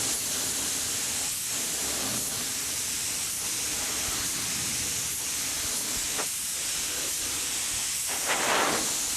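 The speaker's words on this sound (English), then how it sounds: "Yeah, unbelievable with this wind." Strong wind roars steadily outdoors around an aircraft wing being painted silver, a loud continuous broadband rush with gusty swells and no talk.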